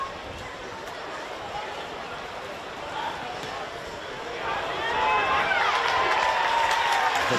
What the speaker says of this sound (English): The crowd told the story well and truly before the flags went up